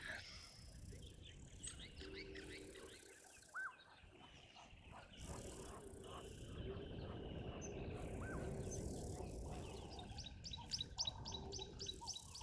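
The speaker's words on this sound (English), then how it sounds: "You can hear woodland kingfishers, Cape turtle doves." Woodland kingfishers and Cape turtle doves call in the distance at a waterhole over a faint wash of background noise, with repeated trilling and cooing calls scattered throughout, fairly quiet and far away.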